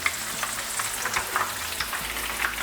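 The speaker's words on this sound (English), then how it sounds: "as you hear them sizzling and they're getting the color" Steady crackling sizzle of coconut shrimp frying in hot oil, with small pops scattered through the continuous hiss.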